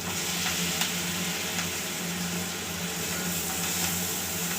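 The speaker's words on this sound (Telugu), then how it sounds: "ఇట్లా వేగేటప్పుడే మనము కరేపాకు వేసుకోవాలి" Curry leaves frying in hot oil give a steady, close hiss and crackle that holds through the whole stretch without a break.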